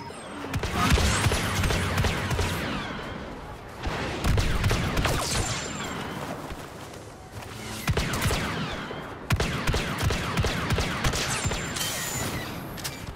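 Bursts of blaster fire from Star Wars Battlefront 2 combat, four dense volleys of rapid crackling shots separated by brief lulls, loud and continuous without speech.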